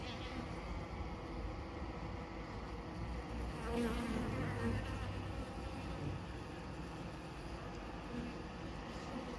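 Honey bees buzz at the hive while clearing out a queen cell, a close, continuous droning hum that swells and wavers at times.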